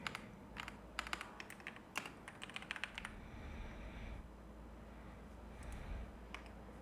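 Fast bursts of computer keyboard typing, quiet and close, with crisp key clicks clustered in the first few seconds and a few more taps later over faint room noise.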